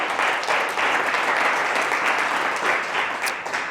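A church congregation claps loudly and continuously, a dense wash of many hands sustained evenly throughout with no speech on top.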